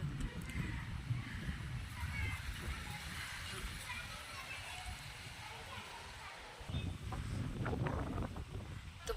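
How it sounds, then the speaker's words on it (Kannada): Strong wind blowing at a house, heard as a constant low rumble and buffeting that swells and eases, with people talking over it. "ಈಗ ನೋಡ್ರಿ ಜೋರು ಗಾಳಿ"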